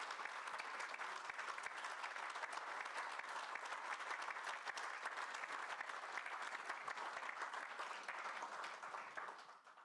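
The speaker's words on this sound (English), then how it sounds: "Round of applause." Sustained audience applause at a product launch for a GA EcoDrive cover, a dense, even wash of many hands clapping, fairly distant and quiet, tailing off at the end.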